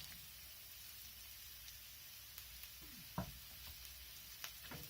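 Peppers frying in a pan, a quiet steady sizzle with faint stirring and a brief louder crackle partway through, no voices.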